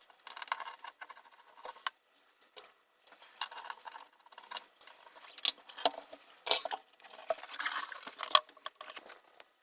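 A brass handle is worked free from the wooden cabinet of a 1958 Radiomarelli RD 198 radio, with scattered small metallic clicks, scrapes and taps coming in irregular bursts, close and fairly quiet.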